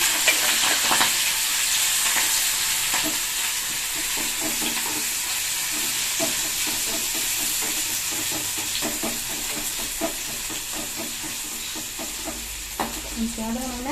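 Ginger garlic paste with mint and curry leaves sizzles and fries in a pan for a cauliflower and double beans gravy, a continuous loud hiss with scraping stir strokes throughout.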